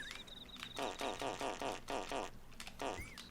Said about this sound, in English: I'll add the pig farts, I guess,